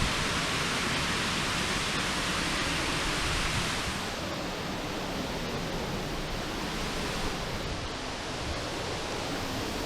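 Loud, steady rushing roar of a waterfall on a windy hiking trail, close up from behind the falls, continuous throughout with a slight easing partway.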